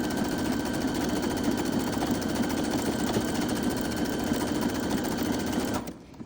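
Sewing machine stitching the seam of a fabric scrunchie, a loud, steady, close motor hum with a fast needle chatter running unbroken for nearly six seconds before cutting off.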